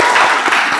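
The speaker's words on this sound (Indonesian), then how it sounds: "Kasih tepuk tangan untuk Bintang." A short, loud burst of applause from students in a classroom during a mathematics lesson: quick, overlapping hand claps close by, with no talk over them.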